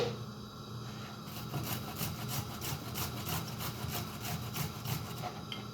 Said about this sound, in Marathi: आता हे आलं मी तुम्हाला किसून दाखवत आहे